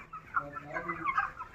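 Desi chickens clucking close by in a small group, several overlapping bird calls in quick irregular bursts, with no talk.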